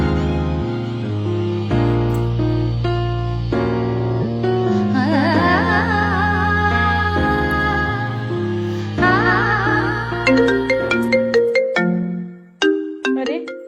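A mobile phone ringtone plays a bright melodic tune at home, loud and continuous, with repeated chiming notes that end in quick plucky tones, and no voices over it.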